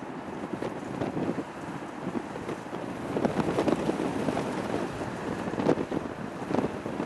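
Strong wind buffets the microphone in a dull, continuous roar with gusting surges, outdoors during plane spotting at Chicago O'Hare airport. No voices are heard.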